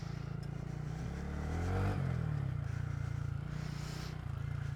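A modified Honda Grom motorcycle rides a dirt byway off-road, its engine droning steadily close by, rising briefly in pitch as it revs before settling back to a constant hum.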